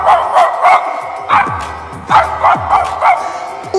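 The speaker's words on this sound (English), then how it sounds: "D for dog. Dog means kutta." A dog barks loudly and close in short bursts, about eight sharp woofs in an uneven rhythm, with no talk over them.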